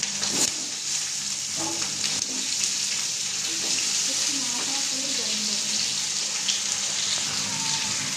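Chopped vegetables fry with cumin and ten to twelve green chillies in a pan, giving a loud, continuous hiss and sizzle throughout, with occasional clinks and stirring noises.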